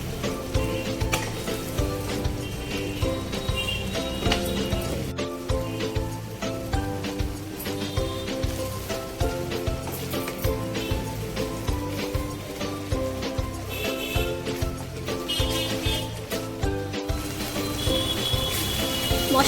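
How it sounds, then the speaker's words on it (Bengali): Spice masala for doi katla, the Bengali fish curry, frying hard in a pan: a loud continuous sizzle with stirring scrapes and clinks, steady throughout with no talking. "ভালো করে মশলাটাকে কষিয়ে নিতে হবে।"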